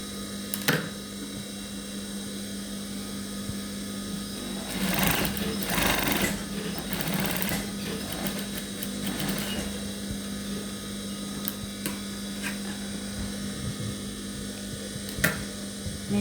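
A sewing machine stitches the strip-attached section of a shirt blouse, its motor whirring in a steady, continuous run close by, with a few light clicks and brief bursts of faster stitching, and no talking.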